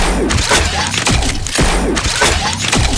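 Rapid gunfire from single-shot weapons in the game Pixel Gun 3D, made up of loud, punchy repeated shots and thuds coming in quick bursts with no pause throughout.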